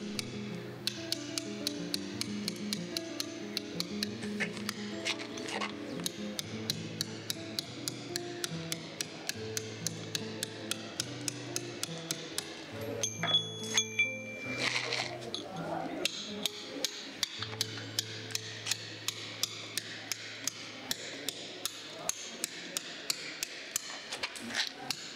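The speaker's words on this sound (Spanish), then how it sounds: "vamos aproximándonos poco a poco con el cincel a los carriles o tiradas del plano inclinado" Steel chisel struck by a hammer while carving an inclined plane into a stone block, a steady run of sharp, close metallic taps at an even rhythm, heard alone with a brief pause midway.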